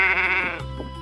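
A sheep gives a single close, loud, wavering bleat, followed by a softer tail.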